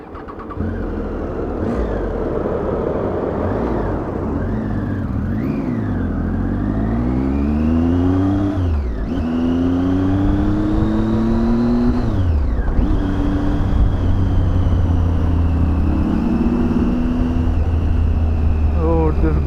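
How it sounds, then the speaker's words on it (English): A Triumph Tiger 800 motorcycle rides through city traffic, its engine loud and close, revving up and down through repeated rising and falling pitch sweeps as gears change, with wind rush and brief talk underneath. "So I am going to be riding the Triumph 800."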